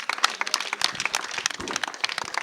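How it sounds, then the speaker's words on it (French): Applause for the village teachers of Djibonker during an outdoor community broadcast: scattered, fairly close hand claps with uneven rhythm, moderately loud, lasting a couple of seconds with no voices over them. "Applaudissez pour les enseignants de Djibonker alors."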